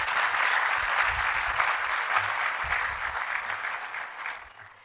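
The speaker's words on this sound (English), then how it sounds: "let's give him another round of applause" An audience at a public health lecture claps steadily for a speaker, a full, even round of applause that holds for several seconds and then fades out.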